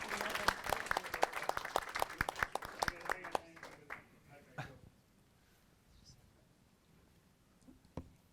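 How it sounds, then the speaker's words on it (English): A debate audience gives a brief round of applause, sharp claps from a modest crowd that fade out after about four seconds, leaving a quiet room with a few faint stray sounds. "Round of applause for Alex, please."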